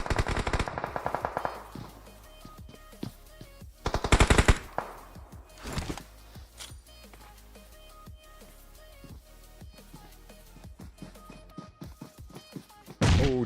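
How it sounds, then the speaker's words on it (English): Gunfire in a PUBG Mobile esports match: rapid automatic bursts and scattered single shots, some loud and close, others fainter, with short pauses between volleys. "That's Versatile back there shooting at this team in front of me here"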